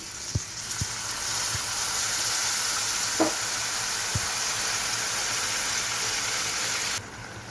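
Tamarind juice hits a hot pan for tamarind pulihora and sizzles loudly and steadily, with a few soft clanks of a ladle early on, the hiss easing slightly near the end.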